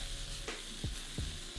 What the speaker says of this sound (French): On verse un généreux filet d'huile d'olive et quand c'est bien chaud, on vient saisir nos champignons.